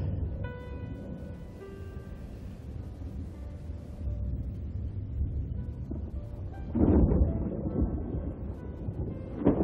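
Storm thunder in a 1995 film rumbles low and heavy, with a deep roll building partway through and a louder crack-like swell near the end over wind and faint background tones.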